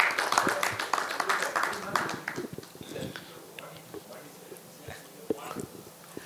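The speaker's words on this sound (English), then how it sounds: "So another big round of applause for Mathur." An audience at an education leadership event claps, a burst of many hands that is loud at first and then thins out and fades as people speak nearby.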